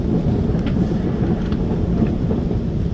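Strong wind of about 31 knots buffeting a sailboat at sea, a continuous loud low roar and rumble with gusty surges and faint higher spray-like hiss, no speech.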